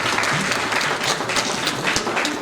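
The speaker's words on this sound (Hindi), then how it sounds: "तालियों के साथ अभिनंदन पाता है" Audience applause at a memorial birth-anniversary ceremony, a steady dense wash of many hands clapping at full volume throughout, with no voices standing out.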